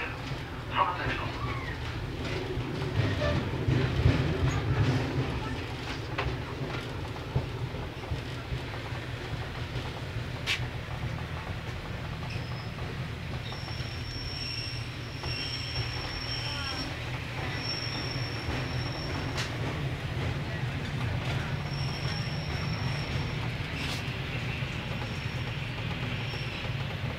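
A Northern Class 142 diesel train runs between Newcastle and Sunderland, heard from inside as a steady rumble and rattle of wheels on track, with occasional squeals and faint chimes, and a voice partly masked early on.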